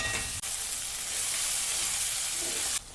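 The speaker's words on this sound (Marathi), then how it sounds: "सगळ्या भाज्या आपण व्यवस्थित फ्राय करून घेऊया" Marinated mixed vegetables for veg pulao frying in hot oil with hing in a pan, a loud, steady, broad sizzle that runs continuously, with a brief dip near the start and a drop at the end.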